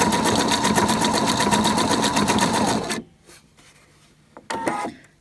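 A sewing machine runs a stretchy back-and-forth elastic stitch as an overlock alternative, a loud, rapid, steady needle chatter for about three seconds before stopping, then a short second burst near the end.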